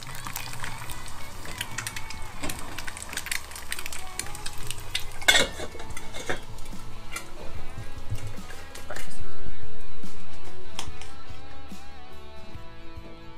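Dishes are washed aboard a cruising boat: cutlery and plates clink and rattle against running water, with a louder gush of water near the end.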